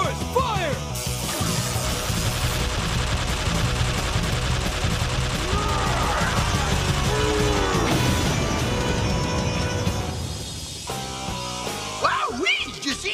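Tyrannosaurus Zord blasting its weapons during a Power Rangers Megazord battle, with a dense, continuous roar of loud gunfire-like explosions and crashes under swelling music, ending in scattered sharp impacts.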